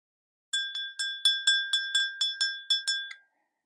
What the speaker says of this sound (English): I always ring this bell before I do any reading